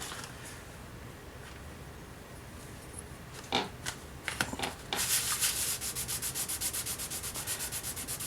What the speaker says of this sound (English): Piece of sandpaper.